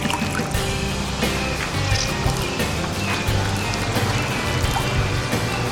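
A wet raccoon hide is wrung out by hand, giving continuous splashing and dripping water with squelching, sloshing handling noises at close range.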